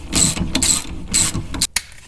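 Ratchet-type torque wrench tightening bolts on a front big brake kit for a 1996-2002 Dodge Viper, several sharp, close clicking bursts in quick succession followed by a brief clack.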